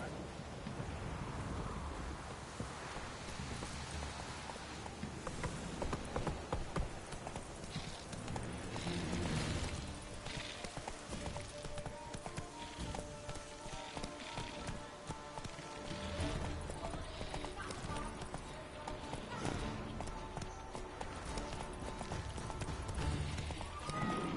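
Horse hooves clip-clop steadily at a galloping pace in The Witcher 3, continuous and fairly close, with rain and distant thunder in the background and a brief whinny.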